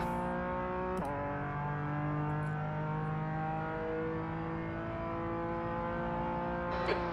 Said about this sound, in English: Okay, Dan, there's a faster car approaching.